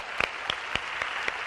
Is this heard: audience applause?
yes